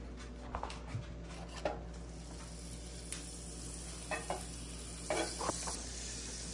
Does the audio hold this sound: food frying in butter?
yes